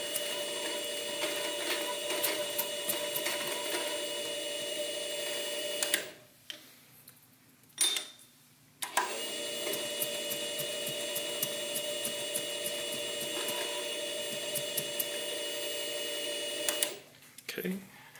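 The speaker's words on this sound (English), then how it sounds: "Don't stick your finger in the grinder, by the way." An espresso coffee grinder grinds beans for puck prep in a steady, loud mechanical whirr and crackle that runs continuously, breaks off briefly twice near the middle, then resumes and stops near the end.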